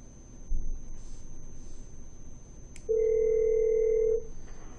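A single steady telephone ring tone on a Cisco call system sounds for about a second over a quiet background, preceded by a faint click.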